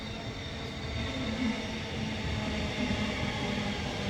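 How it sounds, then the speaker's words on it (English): Steady rumbling roar of a Melbourne suburban train running on the rails at Mount Waverley, Victoria, constant and moderately loud, with no voices. "There's a train right there. There's your Melbourne train."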